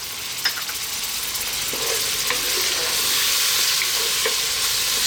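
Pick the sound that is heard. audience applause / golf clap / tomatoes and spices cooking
tomatoes and spices cooking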